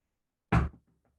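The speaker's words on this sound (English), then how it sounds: "Here's a knocking indeed." A single heavy knock on a castle gate for a radio play of Macbeth, a sharp booming thud with a short decay, followed by near silence.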